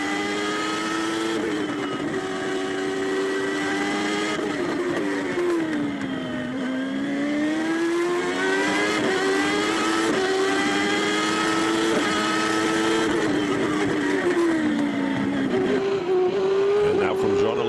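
A 1994 Formula One race car on slick tires at the Spanish Grand Prix, heard from onboard Jean Alesi's car: a loud, continuous high-pitched engine whine rising and falling through gear changes and corners.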